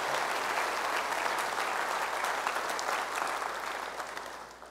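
A congregation at a church service applauds after a piano performance, a steady wash of many hands clapping that fades gently toward the end.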